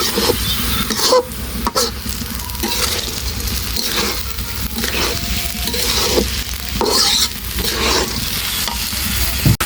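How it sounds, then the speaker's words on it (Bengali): Rice for pulao being stirred in a pot over a clay stove, giving a steady, close scraping and sizzling hiss that runs throughout with brief louder scrapes. "চালটা দিয়ে দিলাম পোলাও ভাতের মতো রান্না করবো"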